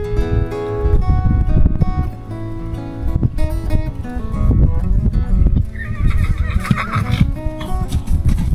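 A newly arrived mare, just off a trailer, neighs loudly and repeatedly amid a dense, full-band mix; a high whinny stands out near the end with clip-clop-like thuds underneath.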